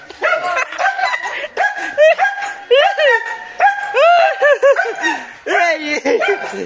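A hunting dog barks and yelps excitedly during a chase, with a rapid run of high, close barks mixed with laughing and shouting voices throughout.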